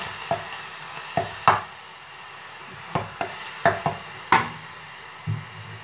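Shrimp heads are stirred in a pan to draw out their fat: sharp scraping and tapping strokes, about eight irregular hits over a faint low background, close by with no talking.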